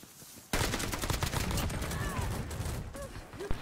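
Dense gunfire erupts after a short quiet start in a video game and continues as a steady, heavy volley, with faint voice-like tones mixed in near the end.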